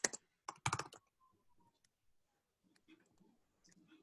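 Short bursts of computer keyboard typing during a programming lecture, a few quick clustered key clicks in the first second followed by near silence, close and fairly faint.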